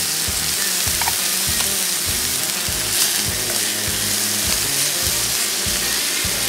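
Duck breast (magret) sizzles and fries with honey in a hot pan, a steady dense crackle with intermittent lower stirring or scraping thumps, close and continuous with no talk.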